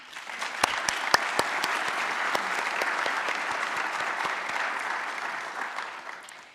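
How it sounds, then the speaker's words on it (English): An audience at an aerospace conference gives sustained, dense applause for winning student teams, with a few sharp individual claps standing out early before the sound tapers off. "So please join me in giving them a round of applause."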